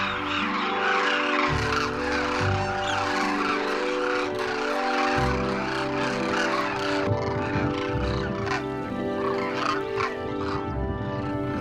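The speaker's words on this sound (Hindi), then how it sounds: "फिर ये पक्षी इस बाड़े से निकलकर गांव के तालाब की तरफ चल पड़ते हैं।" A large flock of birds streams out of a feeding enclosure in a Rajasthan village, filling the air with a dense, continuous clamor of overlapping honking and gobbling calls, loud and close, with no talking.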